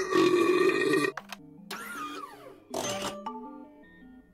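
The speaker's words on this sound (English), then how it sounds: "the impressive belch" Cartoonish belch sound effect from a Jackbox party video game, built from loud, tonal burping bursts separated by quieter stretches of synthetic, descending blips and wobbly tones, close and electronic in character.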